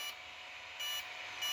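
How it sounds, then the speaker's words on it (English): An Arrma Kraton RC car's ESC gives short electronic calibration beeps while paired with a RadioLink RC6GS V2 transmitter, faint tones stepping over a steady high whine. "3 beeps."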